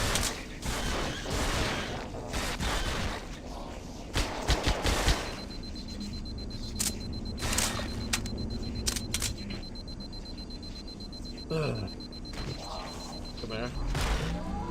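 Machine gun fire in a Halo campaign video game, repeated rapid bursts and sharp clattering shots mixed with game effects and mechanical clicks throughout, with someone talking over the action.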